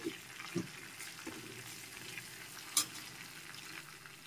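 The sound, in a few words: dried red chilies and five-spice tempering being stir-fried in oil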